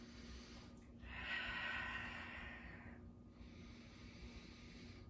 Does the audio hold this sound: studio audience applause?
no